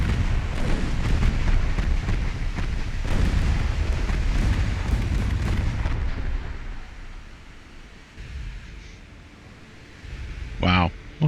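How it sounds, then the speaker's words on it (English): Naval gunfire and explosions from the warship battle game Ultimate Admiral: Dreadnoughts, as a torpedo is launched against an enemy ship: dense rumbling booms fill the first half, then fade into a quieter stretch with a short sharp burst near the end. "Torpedo launch."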